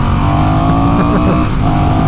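A Honda CMX1100 Rebel motorcycle in sport mode accelerates hard, its twin-cylinder engine note rising loud and close with no break.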